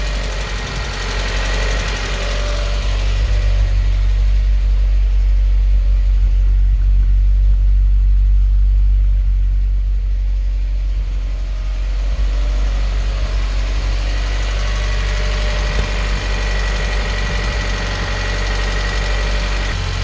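Vauxhall Astra GSi engine running with a tappety valvetrain, a loud, steady close-up rumble with a fine rapid ticking rhythm that swells slightly and holds for the whole stretch, no talk.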